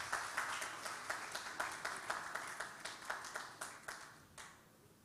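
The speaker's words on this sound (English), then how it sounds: "Please, a round of applause for him again." A small audience at a business roundtable event claps for a presenter, individual claps clearly distinct and rhythmic, fairly quiet and tapering off toward the end.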